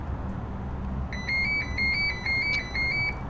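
A phone ringtone plays a bright, repeating electronic melody of short pulsed notes, starting partway through and continuing over a steady background hiss.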